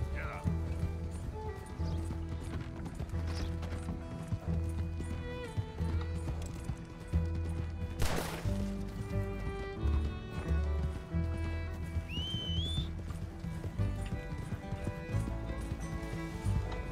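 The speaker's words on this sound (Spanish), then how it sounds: "Mi caballo, si me hiciese más caso, pues les hubiese alcanzado ya" Horse hooves galloping in Red Dead Redemption 2, a steady rhythmic clip-clop running throughout beneath game music, with a brief whinny and someone talking over it.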